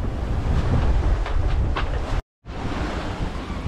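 Choppy sea slaps and rushes against a sailing boat on the Mediterranean while steady wind roars across the microphone, loud and continuous, broken by one brief dropout of total silence.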